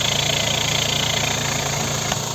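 A Skoda Roomster Scout's 1.6 MPI petrol engine, running on petrol or LPG with an automatic gearbox, idles steadily at close range with an even mechanical hum and light vibration, uninterrupted and with no voices.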